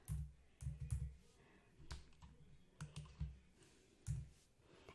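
Typing on a computer keyboard while entering text into an Excel spreadsheet, heard as bursts of close, crisp key clicks in quick irregular runs with short pauses between them, with no talk.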